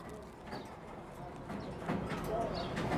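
Domestic pigeons coo softly in a loft where young squabs are kept, a low, murmuring call repeating amid steady background rustle and some indistinct voices.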